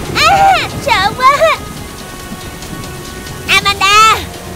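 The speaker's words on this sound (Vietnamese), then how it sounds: "Mưa to quá." Heavy rain hisses steadily in the background of a cartoon scene while voices speak loudly over it in short bursts.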